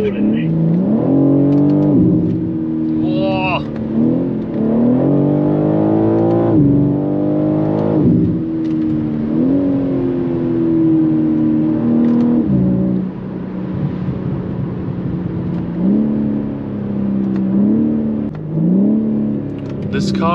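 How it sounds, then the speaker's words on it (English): A 2023 BMW M3 G80 revs and pulls hard while driving, its loud exhaust rising and falling through the gears, with pops and bangs. It sounds steadily close throughout, with someone talking over it. "This car is really loud."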